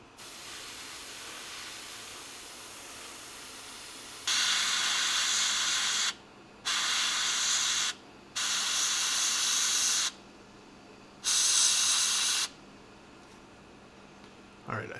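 Silver model paint sprayed from a can onto parts of a P-40F Warhawk scale model: four separate hissing bursts, each lasting one to two seconds, close and loud, with quiet gaps between them.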